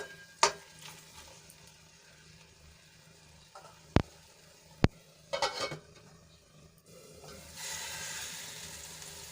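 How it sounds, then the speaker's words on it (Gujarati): Masala sautés in oil for a capsicum gravy: a soft, steady sizzle broken by a few sharp spoon clinks against the pan and brief stirring scrapes, with the hiss swelling near the end. "હવે આને આપણે થોડીવાર સુધી સંતળાવા દઈશું જેથી કરીને બધા મસાલા સરસ રીતે"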